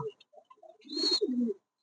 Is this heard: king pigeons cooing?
yes